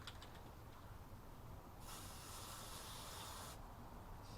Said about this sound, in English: I'm just gonna spray it over the green